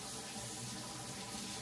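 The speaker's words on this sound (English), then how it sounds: "So what I do is I put it over here, wash it under water." A steady, loud rush of running tap water pours into a sink as a cured pastrami brisket is rinsed beneath it, heard close and constant with no talking.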